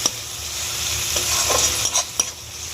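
Ground cumin and coriander spices are stirred and fried in a hot pan for potato biryani, a steady sizzle broken by a few scraping knocks of the spoon.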